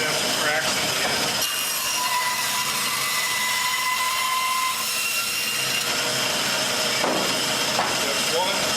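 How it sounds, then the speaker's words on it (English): A bandsaw cuts through cedar firewood from a slab, a continuous rasping buzz that changes tone as the blade works through the wood, loud and close. "And the bandsaw works really great for this."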